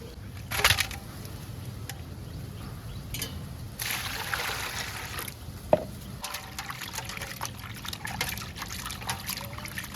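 Salted shrimp rinsed by hand in water, with close splashing, sloshing and trickling that comes and goes in bursts, plus a sharp knock partway through.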